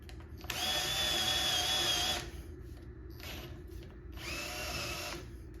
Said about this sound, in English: In hindsight, I may not have drilled a large enough hole.